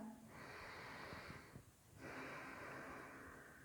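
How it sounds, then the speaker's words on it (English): A slow, deep inhale and exhale during an evening yoga flow: two long, soft airy breaths, each about a second and a half, separated by a brief quiet pause, close and fairly faint with no talking. "Let's take in one more big breath."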